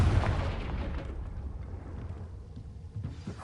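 A Confringo blasting spell in Hogwarts Legacy erupts in a deep boom that rolls off into a fading rumble, followed by a faint crackle and another thump at the very end.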